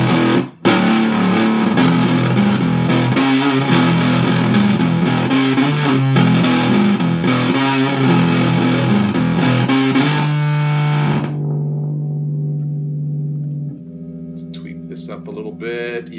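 Electric guitar played through an Alchemy Audio built clone of the Devi Ever OK fuzz pedal, heavy and bass-rich, with sustained distorted chords that cut off and leave one held note ringing before a few faint plucks.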